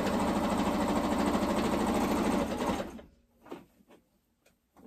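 A sewing machine stitches a pleated fabric mask in a fast, continuous run for nearly three seconds, then falls silent except for a few soft handling clicks and rustles.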